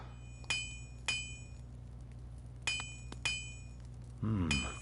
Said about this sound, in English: We can hear vaguely in the distance the sound of a hammer